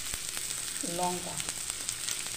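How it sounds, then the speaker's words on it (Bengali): Capsicum, green chilli and tomato fry in oil in a kadai, a soft steady sizzle with a brief stirring scrape, fairly quiet and close. "কাঁচা লঙ্কা কুচি আর টমেটো কুচি দিয়ে এটাকে ভেজে নিই।"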